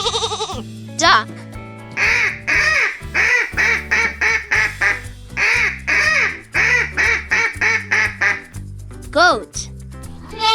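Duck quacking in a long run of short, rapid nasal quacks, some grouped in quick pairs and triplets, loud and close over upbeat children's music, with a brief voice at the start and near the end.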